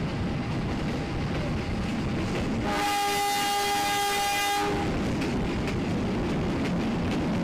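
A test-run train on the Padalarang-Cianjur-Sukabumi line rumbles past through rice fields, and a loud sustained horn blast of about two seconds rises over the rolling rail noise.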